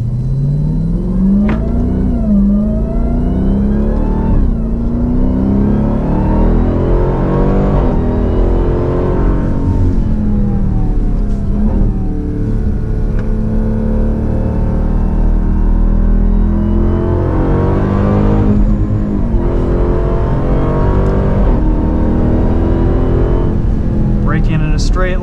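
A 2023 Dodge Durango SRT Hellcat accelerates hard around the Road America race track, its engine roaring loud and continuous through rising and falling revs, with someone talking over it from inside the cabin.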